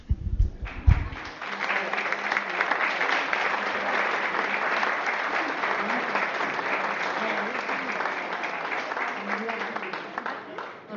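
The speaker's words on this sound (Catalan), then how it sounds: "les podeu aplaudir pel passadís ja" An audience at a talk about El Barco applauds two women as they walk up the aisle, a full sustained round of clapping that runs steadily throughout after a brief low thump at the start.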